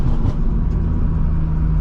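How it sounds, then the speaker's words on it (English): Custom tuned Lexus IS350 exhaust rumbling steadily at close range, a loud, continuous deep bass drone with faint crackle texture and no clear separate pops. "pops and crackles are much louder. They sound even bassier."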